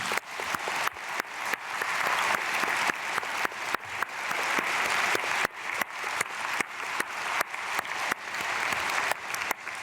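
A church congregation at a Korean Myungsung Church dawn prayer service claps steadily as a blessing. The applause is dense and fairly loud, with an even rhythm of repeated claps throughout and no talking.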